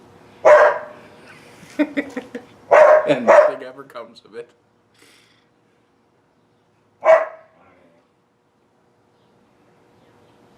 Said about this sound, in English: It's just bark, bark, bark, bark, bark at the other dog.